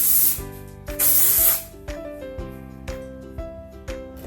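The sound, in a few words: texture spray being sprayed on hair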